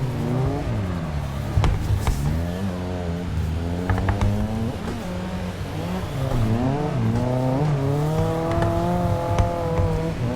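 A Nissan S13 drifts on a mountain pass, its engine revving hard and continuously with rising and falling pitch as the tires squeal, loud and close throughout.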